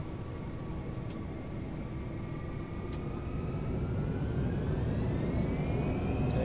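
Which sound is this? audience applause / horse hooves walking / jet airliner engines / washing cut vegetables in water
jet airliner engines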